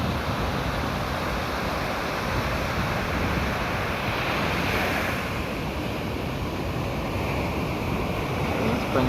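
Ocean surf at Kuta beach, Bali, rolls in as a continuous broadband wash of breaking waves, steady and fairly loud throughout, with wind noise on the microphone.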